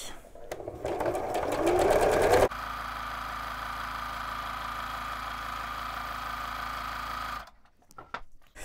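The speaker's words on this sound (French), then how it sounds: "je vais enchaîner directement et je vais coudre les deux bandes suivantes" A sewing machine stitches patchwork fabric strips in one steady, continuous run of several seconds. It follows a brief, busier burst of stitching and fades to quiet at the end.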